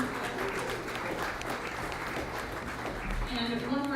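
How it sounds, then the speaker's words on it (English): A conference crowd at a psychedelic event in Kansas City applauds the vendors, a continuous roomy spread of clapping with some voices mixed in underneath. "And a round of applause for our vendors who showed up to offer some beautiful things."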